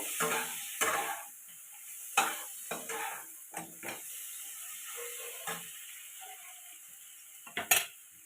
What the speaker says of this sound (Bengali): এর মধ্যে দিয়ে দেবো এক চামচ গরম মশলা আবার দু সেকেন্ড নাড়বো